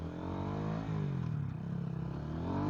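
A 2009 Honda CBR125R motorcycle engine while riding, a steady close drone that rises and falls slightly in pitch under wind noise, with no talking.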